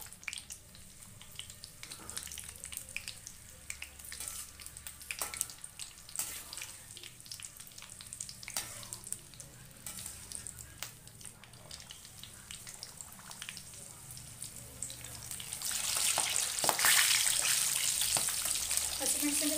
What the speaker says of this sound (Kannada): ಹಸಿಮೆಣಸಿನಕಾಯಿ ಸಿಡಿಯುತ್ತೆ, ಸ್ವಲ್ಪ ಹುಷಾರಾಗಿರಬೇಕು ಈ ಟೈಮಲ್ಲಿ ಎಣ್ಣೆ ಒಳಗೆ.